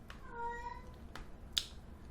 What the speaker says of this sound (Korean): 고양이 소리가 들릴 것 같은데 그냥 무시하고 계속 좀 찍을게요